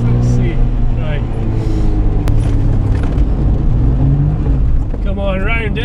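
A Suzuki Cappuccino Turbo kei car with an open differential is driven hard while drifting, its engine droning steadily and close throughout, with someone talking over it.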